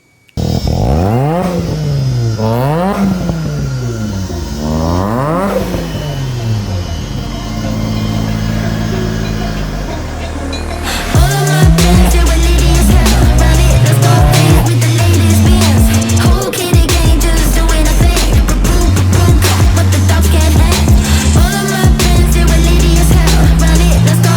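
A modified Toyota Innova car engine runs loudly, pitch rising and falling through revs at first, then turning harsher and louder as the car pulls out, with a steady heavy drone throughout.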